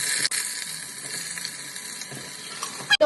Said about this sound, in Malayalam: അണിയൻസ് ഫ്രൈ ചെയ്തെടുക്കാം.